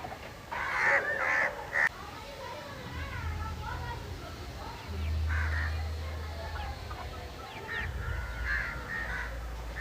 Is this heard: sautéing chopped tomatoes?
no